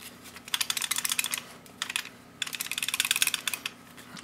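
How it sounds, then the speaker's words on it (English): A Chris Costa Deluxe Glock 17 pistol slide rattling: two close bursts of rapid, light clicking separated by a short pause, with no talking. "What's that rattling?"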